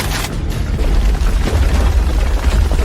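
A deep, heavy boom rolls out as an iron tower is blasted in an animated scene, a loud sustained low rumble filling the whole moment with no talking.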